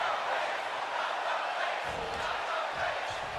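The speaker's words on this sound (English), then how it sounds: "You can hear the crowd here tonight." Arena crowd noise from a WWE 2K22 wrestling match, a steady broad roar of spectators that swells slightly partway through, loud and continuous without a break.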